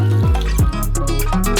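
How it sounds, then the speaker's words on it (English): Super hot cream pours onto white chocolate in a close, continuous liquid stream with gurgling, dripping splashes, heard alone and up close. "And pour in some white chocolate with super hot cream."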